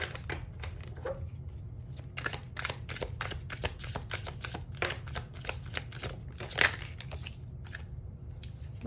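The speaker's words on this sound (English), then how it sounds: "I'm gonna get one more shuffle. I feel like I need 2 for some reason." A deck of tarot cards shuffled by hand, a rapid run of crisp riffling and sliding card snaps, close and fairly quiet, with no talking.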